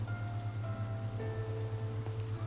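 Steady rain falls in a Final Fantasy XIII cutscene, a soft continuous hiss under a low hum and faint sustained musical tones, with no talking.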